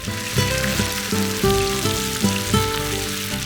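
A rectangular patty of mashed potato mixed with Hatch green chile deep frying in hot oil, a bubbling sizzle close by with clattering pan or utensil knocks in an irregular rhythm, no talking.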